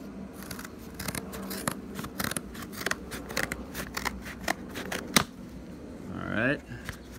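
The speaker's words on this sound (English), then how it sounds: "We're gonna have to cut this one open." Scissors cutting open a baseball card shipping package, a run of sharp snips and plastic crackles, then a tearing rip near the end, with brief talking.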